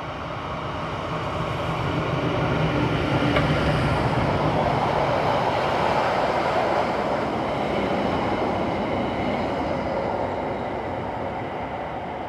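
Locomotive 704 hauls a passenger train from Samedan to Landquart, giving a steady, loud rolling roar of wheels and carriages that holds evenly throughout without a break.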